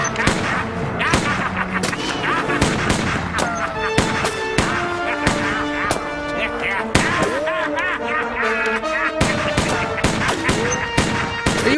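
Gunfire in a horror-comedy movie scene: a dense barrage of loud, sharp bangs in irregular rapid bursts, mixed with music and shouting voices throughout.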